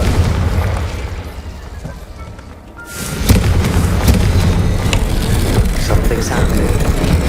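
A Confringo explosion spell in the Hogwarts Legacy video game, a loud booming burst that follows a dip in a dense rumbling game soundscape, then a sustained crackling roar close up.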